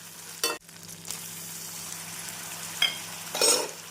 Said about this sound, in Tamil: தக்காளி வெங்காயத்துடன் நன்றாக மசிந்து வரும் வரை வதக்க வேண்டும்